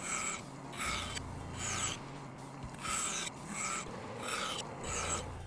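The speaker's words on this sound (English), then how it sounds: "Now it's time to go over to the bandsaw and cut these notches out." Bandsaw cutting notches into a wooden workpiece, heard as a series of repeated rasping cut passes about a second long, each separated by brief gaps, over a steady low machine hum, close and fairly loud.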